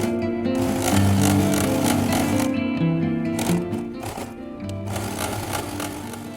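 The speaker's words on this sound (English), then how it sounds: "Now we are just going to stitch this." A sewing machine stitches a fabric strap for a laptop bag, a fast, steady mechanical whir. It runs in close bursts with short pauses and slows near the end.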